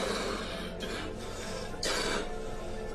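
A man lying in a hospital bed coughs a couple of times, short raspy bursts fairly close against a low background hum.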